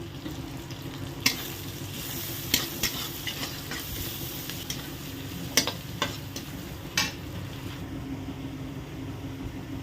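Bay leaf, cinnamon and cumin sizzle steadily in hot oil in a pan for an Indian fish curry, while a utensil stirs with occasional sharp taps and clicks against the pan. Nobody speaks.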